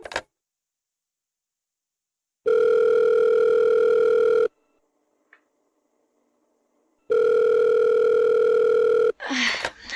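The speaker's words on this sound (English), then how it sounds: "You have a collect phone call from Beatrice West." A telephone rings for an incoming collect call, two long steady electronic ring tones separated by a pause, loud and clear, followed by a brief handling clatter.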